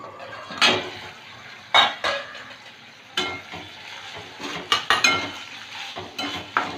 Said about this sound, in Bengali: চার মিনিট পরে ঢাকনা তুলে নিচ্ছি